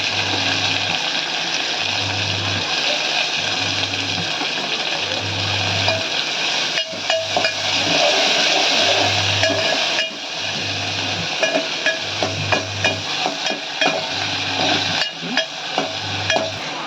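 Finely chopped medium tomato frying in a chilli tempering for Maharashtrian phodniche varan dal, a loud, steady sizzle with crackling spatters and intermittent stirring clatter throughout.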